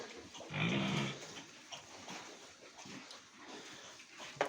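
Small piglets in their pen let out a brief grunting squeal near the start, then shuffle and snuffle quietly at a low level, with no talking.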